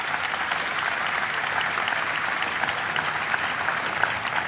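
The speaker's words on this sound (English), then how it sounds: "So please give him a big round of applause." A large crowd at an energy policy event applauds the Secretary of the Interior, sending up a dense, loud, unbroken roar of clapping that holds steady from start to finish.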